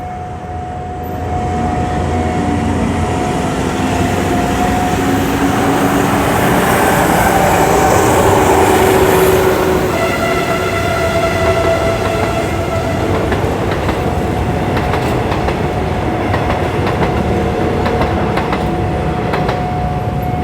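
A passenger train, number 277, rumbles past up close at the Phet Uthai Road level crossing in Thailand, with loud clattering wheels, a steady warning bell ringing throughout and a brief horn, the roar swelling then holding.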